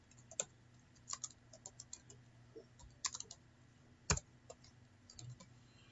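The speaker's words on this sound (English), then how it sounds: "Now I'm only required to type the names." Keys on a computer keyboard are typed in irregular bursts while names are entered for student ID cards, with sparse clicks and one sharper keystroke over a quiet room hum.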